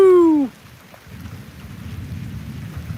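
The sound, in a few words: rain from a summer thunderstorm in Tulsa, Oklahoma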